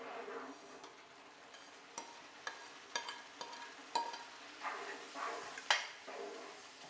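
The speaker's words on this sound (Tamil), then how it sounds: "ஸோ நம்ம ரவையை ஆட் பண்ணிக்கலாம் ஸ்லோவாக." Semolina being added slowly to boiling water in a pot for fruit kesari and stirred, giving faint bubbling with soft scrapes and light taps of a spoon against the pot at irregular intervals.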